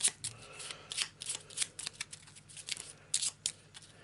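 A deck of game cards being shuffled and cut at a board-game table, a quick run of crisp riffling flutters and snaps close by, with no talking.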